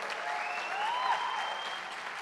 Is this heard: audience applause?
yes